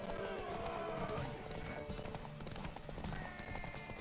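Horse hooves clip-clop at a gallop in The Witcher 3, a rapid dense rhythm of hoofbeats with a whinny mixed into busy game sound and music.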